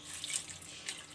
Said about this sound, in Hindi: आधा कप के करीब पानी डालेंगे